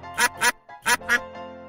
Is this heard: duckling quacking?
yes